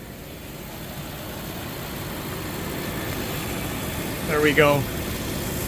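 A Lexus GX470 engine idles steadily just after its starter was replaced, a smooth, even mid-pitched hum held throughout, with a brief spoken remark near the end.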